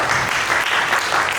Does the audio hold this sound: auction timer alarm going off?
no